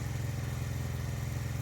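A Honda CB350 RS motorcycle engine idling just after being started, a steady low thumping rumble held evenly throughout, close and moderately loud with no voices.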